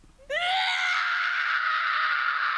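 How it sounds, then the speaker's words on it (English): Character in the video game SubaHibi: Wonderful Everyday lets out one sudden, piercing scream that rises sharply then holds loud and strained for about two seconds, alone after a brief quiet lead-in. "His screams are too good."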